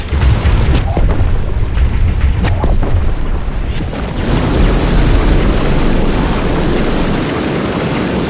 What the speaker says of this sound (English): shooting asteroids also will lower the volume of everything else when they explode